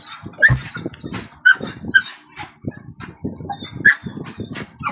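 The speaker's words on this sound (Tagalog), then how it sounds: "Aso naman talaga yan ah." A bulldog barks and yips several times in short, close bursts, with whimpering sounds and other noises between the barks.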